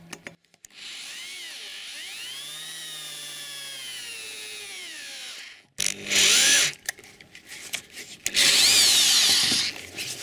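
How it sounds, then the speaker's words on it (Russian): An electric drill with a slightly larger bit bores out a broken stud, giving a steady high whine for about five seconds, followed by several shorter, harsher bursts of drilling and grinding. "Сверлим дальше. Чуть большего диаметра сверлом."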